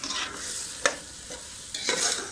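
Green chickpeas roast in a pan, stirred with a few scraping passes and one sharp knock of the utensil over a steady dry sizzle. Close and clear, with no talking.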